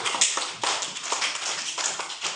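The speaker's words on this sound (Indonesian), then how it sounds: "Oke, tepuk tangan sama Matthew" A classroom of students claps for a classmate, a dense, steady burst of many hands applauding close by for a couple of seconds with no talking.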